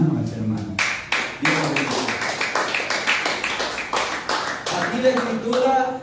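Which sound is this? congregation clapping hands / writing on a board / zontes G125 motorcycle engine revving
congregation clapping hands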